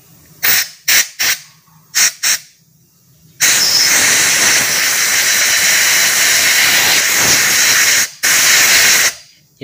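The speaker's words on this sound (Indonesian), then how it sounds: "kita semprot pakai kompresor ya teman-teman" Compressed air from a compressor sprays in short bursts and then a long continuous hissing blast while cleaning the throttle body of a Daihatsu Gran Max, loud and close with no talking.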